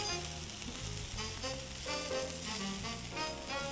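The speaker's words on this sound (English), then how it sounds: "I'm just gonna let that saute some more because I like for my onions to look a little bit more grilled." Onions sautéing in a pan while making turkey gravy with thyme and vinegar, a steady close sizzle that runs unbroken beneath a low humming musical bed.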